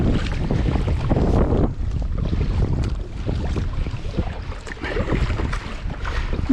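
A Pryml Spartan Fire Fisher kayak pushing into wind and current, with steady loud wind buffeting the microphone and water sloshing continuously throughout.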